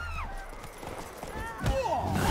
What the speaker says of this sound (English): Out of the way, horse.